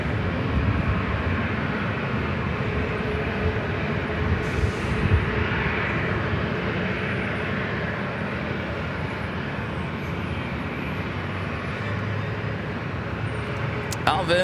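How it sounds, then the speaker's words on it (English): Steady broadband jet roar from a Delta Airlines Boeing 737-800 at LAX, loud and continuous throughout with little change, as a voice talks faintly over it. "Delta Airlines Flight 2075 heading to Nashville"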